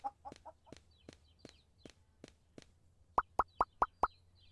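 A chicken in a supermarket farming video game, a few soft clucks followed by a steady series of dry ticks and then five sharp, evenly spaced plopping pops, close and clear with no talk.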